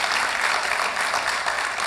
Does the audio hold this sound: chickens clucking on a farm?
no